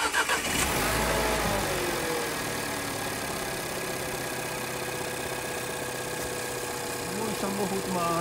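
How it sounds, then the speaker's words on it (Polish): A car's 1.2 TCe engine with an LPG system cranks and catches in the first second, then settles into a steady, close idle hum that continues throughout. "Ja zaraz odpalę samochód, zobaczymy, jak on się zachowuje."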